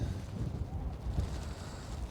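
Low, rumbling wind buffets the microphone steadily, with gusts swelling and easing throughout; no voices are heard.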